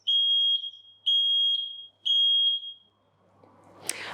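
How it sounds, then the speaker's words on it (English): A smoke alarm gives three loud, shrill beeps, evenly spaced about a second apart, followed by quiet rustling and a brief click. "test your smoke alarm till you hear the beep"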